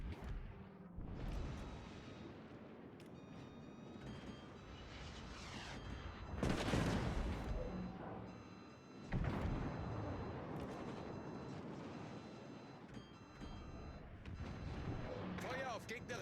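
Warship gunfire in a naval video game, several heavy booming salvos with long rumbling decays over a busy background of game sounds and beeps, with occasional voices.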